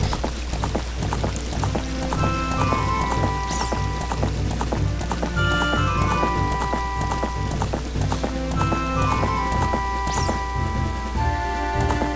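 Horse galloping in the video game The Legend of Zelda: Ocarina of Time, with a steady clip-clop of hooves running through layered game music that plays without pause.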